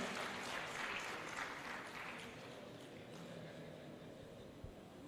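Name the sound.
conference audience applause for speaker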